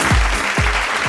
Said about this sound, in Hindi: एक बार जोरदार तालियां हो जाए हमारे सचिन और सहवाग के लिए।